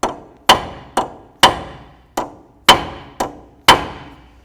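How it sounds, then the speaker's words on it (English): Eight sharp metallic hammer blows on a flat punch, peening the CV axle nut on a 2003-08 Toyota Matrix, each strike ringing briefly and decaying, spaced about half a second apart, close and clear with no talking. "take a nice flat punch like this, come right here, and then I'll give a couple loving bonks to peen that down"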